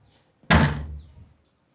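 A door opens with a single loud close thump and a rattling decay lasting under a second, alone in a quiet room.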